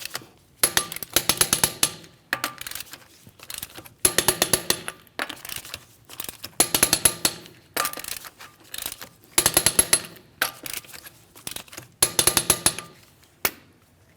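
Impact wrench or torque tool working the wheel lug nuts on a Chevrolet Malibu in a crisscross pattern, sharp rapid rattling bursts repeating roughly every second, close and loud, no talking.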